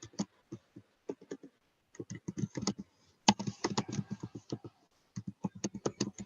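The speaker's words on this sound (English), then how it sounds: "we can hear someone and people typing." Quiet keyboard typing in bursts of rapid clicks with short pauses between, several keystrokes at a time, no voices.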